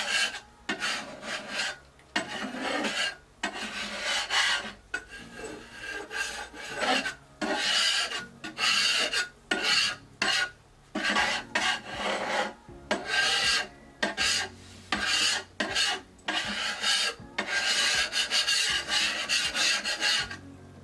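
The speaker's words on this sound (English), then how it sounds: "let's clean off the melted candle wax." Repeated rough scraping strokes of a spatula scraping melted candle wax, a rasping rub against a hard surface in bursts with short pauses, close and fairly loud, no talking.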